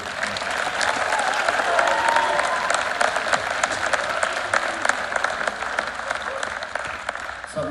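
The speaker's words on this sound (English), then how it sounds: "Let's have another round of applause for our student conductors." Audience applause for student conductors at a high school band holiday concert, a steady and loud roll of many hands clapping throughout, with crowd noise and a few voices mixed in.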